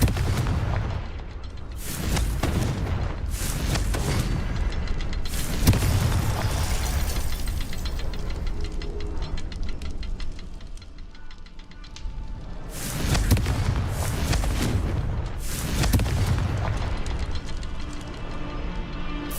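In the Hogwarts Legacy video game, Confringo spell explosions go off as loud, heavy booms in rapid clusters, with rumbling blasts that overlap and briefly ease before another burst.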